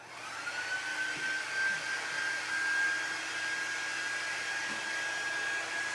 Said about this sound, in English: I'm going to use my heat gun for just a minute or so to get this dry.